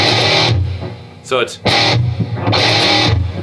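A high-gain electric guitar played through an amp with reverb chugs out repeated distorted bursts of a riff, broken midway by a short spoken phrase.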